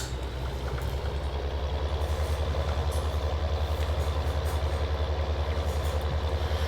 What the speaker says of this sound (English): let's get our new tractor out to a field